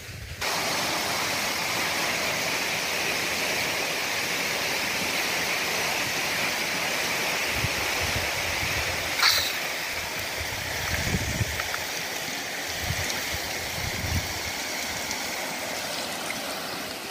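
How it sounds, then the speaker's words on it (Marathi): Irrigation water flows steadily into prepared field beds sown with groundnut seed, a constant rushing, stream-like wash that holds at an even level from start to finish, with a few brief splashy swells near the middle. "आणि हे सर्व वाफे भरायचे, पूर्ण वाफे भरायचे."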